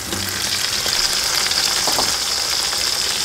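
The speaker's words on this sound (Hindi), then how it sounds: "अभी हम शामिल करेंगे टमाटर और सब्ज़ मिर्चें।" Tomatoes and green chillies fry with golden onions and whole spices for village-style mutton biryani, a loud steady sizzle close up with faint stirring scrapes and no talk.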